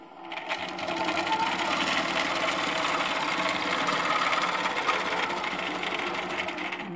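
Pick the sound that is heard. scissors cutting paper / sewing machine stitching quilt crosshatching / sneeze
sewing machine stitching quilt crosshatching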